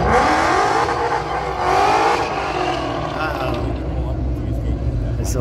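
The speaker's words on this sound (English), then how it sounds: "Sturgis drag strip again. But they're going to be racing cars this time." Cars race down the Sturgis drag strip, their engines roaring loudly and sweeping in pitch as they accelerate past, while someone talks over the racket.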